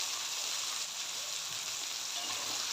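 Pigeon peas, green peas and broad beans sautéing in a pan for Gujarati undhiyu, giving a steady, even sizzle that runs unbroken and fairly quiet, with no voices over it.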